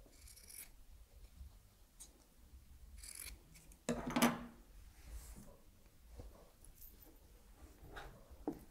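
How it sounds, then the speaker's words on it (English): Scissors make a single close, sharp snip through the fabric of a jacket's bound buttonhole as excess fabric is trimmed away, a brief rasp standing out in an otherwise quiet room. "you're able to go in and neaten it up by snipping it down to the size that you've already got"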